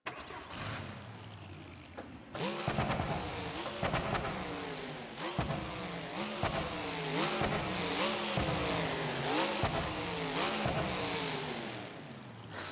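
A video game monster truck engine in BeamNG.drive cranks and roars to life, then rumbles and revs in repeated surges, loud and close, with a brief voice at one point.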